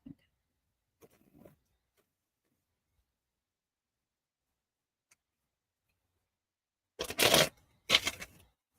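Tarot cards being shuffled in two quick bursts of riffling near the end, close and crisp, after a few faint handling taps in otherwise near silence.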